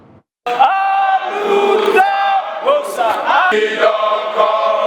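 A large protest crowd against bad governance, the high cost of living and insecurity gathers at Old Airport Junction in Jos, roaring and chanting loudly and continuously with overlapping shouts and whoops after a brief silent start.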